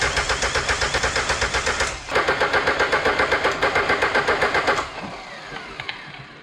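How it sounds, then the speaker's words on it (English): Ford Escort Express van with a swapped diesel engine being cranked by the starter, two long bursts of rapid, even chugging cranking with a brief pause between, then cutting out to quieter clinks and rustles. "try to get this engine running inside the car now"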